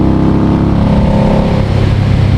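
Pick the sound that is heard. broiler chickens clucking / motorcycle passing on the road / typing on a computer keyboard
motorcycle passing on the road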